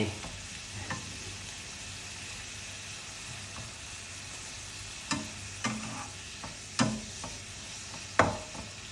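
Flowers and snow peas are stir-fried in a pan over a constant sizzle of hot oil, with occasional sharp spatula scrapes and clacks that grow more frequent toward the end; the sound is close and there is no talk.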